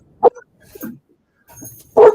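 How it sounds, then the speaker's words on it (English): Dog giving a few short, close yips and soft whimpers in quick bursts separated by brief silences, loud and near. "It's my dog."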